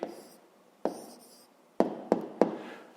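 A pen or pencil writes an answer by hand on paper for a fifth-grade math exercise, giving a few short scratchy strokes and quick taps spread across a quiet moment, close and soft.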